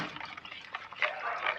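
Water poured into a rice pudding mixture in a home kitchen, a soft steady trickle and splash lasting under two seconds, fairly faint.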